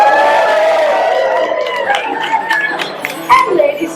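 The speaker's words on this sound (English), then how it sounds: "A big round of applause for Masha and her men" A talent show crowd roars with loud cheers, whoops and excited shouting that swell and break into scattered yells, voices dominating over any clapping.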